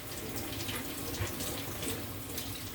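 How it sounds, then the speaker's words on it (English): Tap water runs steadily into a kitchen sink as fresh cilantro is rinsed under it, a constant close splashing hiss with no talk. "I like to run it up under some water. And rinse this off really, really well."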